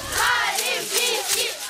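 A crowd of fans at a seaside beach sports competition cheers and chants together, a loud, steady wash of many voices at close range for a moment.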